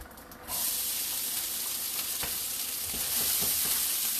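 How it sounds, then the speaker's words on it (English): A small test piece of onion hits hot fat in a pan with a sudden loud sizzle that settles into a steady, close frying hiss. "Hear that sizzle? Good to go."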